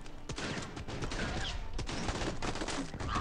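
Rapid bursts of video game gunfire crackle in quick succession, fairly faint and continuous, like a sustained firefight, in Swamp Attack 2.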